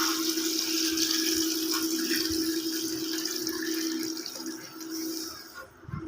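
Water pours steadily into a large cooking pot, about 4.5 to 5 litres, for beef paya, a continuous close rushing splash that thins slightly near the end.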